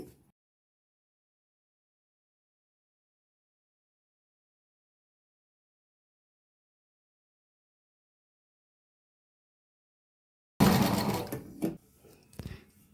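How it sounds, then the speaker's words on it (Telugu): A sewing machine stitches fabric piping in a short, loud burst near the end after a long silence, the rapid mechanical whir stopping and starting. "చూసారు కదా ఈ విధంగా స్టిచ్ చేసుకున్నామండి"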